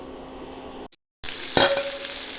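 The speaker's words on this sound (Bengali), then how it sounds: "তাহলে আমি বেগুনগুলো ভেজে নিই" Eggplant slices fry in a pan: a steady sizzle breaks off into a short silence, then returns louder with a sharp clink of utensil on cookware near and clear, without speech.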